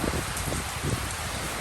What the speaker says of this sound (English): We haven't had this amount of rain in recent time.